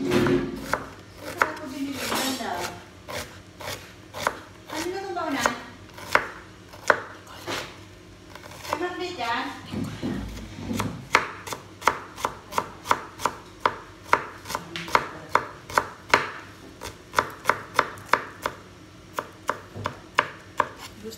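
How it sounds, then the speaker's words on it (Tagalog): A knife chops an onion into small squares on a cutting board for a tuna sandwich, making a long run of close, crisp, rapid taps with a few brief pauses. "Now, hiwa tayo ng sibuyas. Square na maliit."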